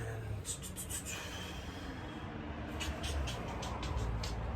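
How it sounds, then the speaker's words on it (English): Street traffic outside an apartment window: a steady low rumble of passing vehicles with faint hiss, continuous and fairly distant throughout, with no talk. "we can still hear traffic and stuff outside the window"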